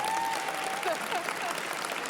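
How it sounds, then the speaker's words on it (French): A live audience applauds as loudly as it can, a dense sustained roar of clapping with a faint whistle-like tone gliding over it, speech murmuring underneath. "Ça consiste à applaudir le plus fort possible."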